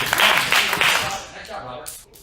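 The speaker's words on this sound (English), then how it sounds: "Let's give Robert 3 claps." A group claps three times in unison at a children's belt ceremony: three loud, evenly spaced claps close by, followed by a brief fading tail as a voice speaks.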